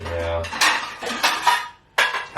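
Kitchen utensils clatter and clink as someone rummages through a drawer for a spatula, a series of loud metallic bursts in quick succession with brief pauses between. A voice speaks a single word partway through.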